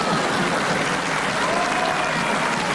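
The studio audience of a French radio panel show claps in a thick, steady burst of applause, heard as loud unbroken noise with no gaps.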